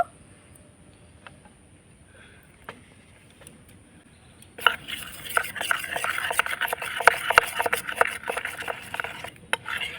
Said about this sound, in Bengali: বাটির মধ্যে ময়দা আর এক চামচ জল দিয়ে গুলে নেব